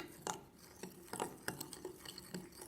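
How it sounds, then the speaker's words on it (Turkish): A spoon stirs a rice flour and rice water face mask mixture in a small bowl, giving faint, close, irregular scraping clicks and taps at a steady hand pace with no talk. "Şimdi bunları iyicene karıştıralım."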